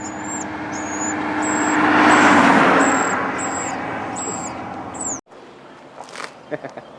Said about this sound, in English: It's a landscape trailer, Mike.